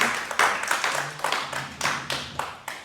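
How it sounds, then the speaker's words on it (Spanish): A church congregation claps in a slow, uneven rhythm, each loud hand-strike sharp and distinct, about a dozen claps in the stretch with a low hum underneath and no talking. "Si ese aplauso, dáselo con vida."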